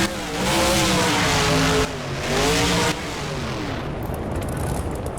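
A Hot Wheels monster truck from Monster Jam, driven in BeamNG, revs loudly in two long roaring surges before settling into a lower rumble, with engine pitch rising and falling and no talking.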